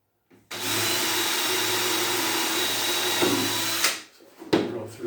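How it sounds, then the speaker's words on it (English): A power drill, switched off hammer mode, whirs steadily at close range for several seconds while installing work area storage, then winds down and stops, followed by a couple of sharp knocks. "Drill through here."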